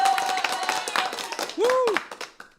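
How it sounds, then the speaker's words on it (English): Quick run of live hand claps over a couple of seconds, mixed with background voices and a brief rising electronic tone partway through. "this is time for just some hand claps"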